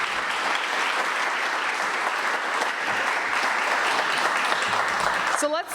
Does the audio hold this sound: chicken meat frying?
no